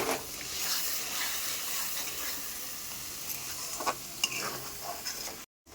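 Thick paste of poppy seeds, cashews, melon seeds and green chilies sizzles steadily in a pan for a spicy meat curry, with a constant close hiss, soft bubbling and a few brief louder spits and stirring scrapes.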